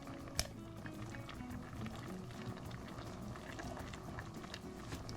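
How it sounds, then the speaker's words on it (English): A seafood chowder simmers in a pot, giving a soft, steady bubbling with faint pops and small clicks throughout. It stays quiet and even, with no talking. "Now after 20 minutes of simmering"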